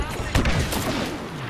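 Blaster fire in a Star Wars Battlefront video game, a rapid volley of sharp shots close up over a dense, busy battle backdrop.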